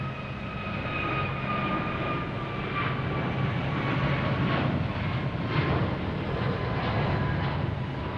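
At Boston Logan Airport an Air Canada jet lands while an American Airlines jet takes off, a continuous loud engine roar with a faint whining tone that slowly shifts pitch, steady and unbroken, no talking.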